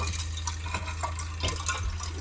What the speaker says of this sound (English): It's still running kind of weak, but I think once we run some more water through